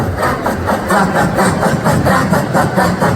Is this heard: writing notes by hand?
no